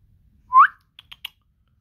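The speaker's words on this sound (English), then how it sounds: "you heard me whistling" A single rising whistle from a person, short and clear in a quiet room, followed by a few faint clicking taps.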